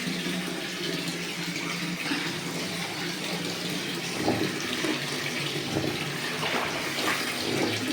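Steady tap water running into a basin at home while clothes and a burqa are set to soak, a continuous close hiss with faint splashing and no talk.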